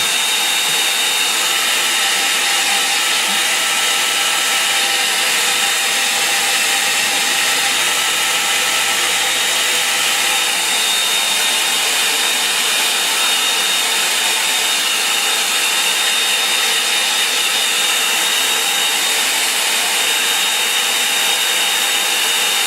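A hair dryer blows steadily and loudly up close over a painting, a constant unbroken whoosh with no pauses and no talk.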